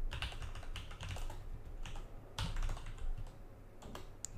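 Quick, irregular clacking of computer keyboard keys as JavaScript code is typed, close and clear with no talking.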